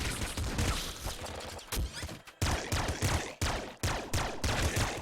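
Weapon fire in the top-down shooter Nuclear Throne: loud bursts of gunfire and explosive blasts coming in rapid, uneven clusters, with brief gaps between volleys.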